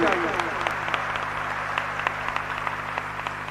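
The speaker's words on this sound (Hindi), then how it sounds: "जरा जोरदार तालियां आपकी होनी चाहिए।" Listeners at a Jain religious discourse burst into applause: scattered sharp claps over a steady hum, with a voice heard briefly at the start.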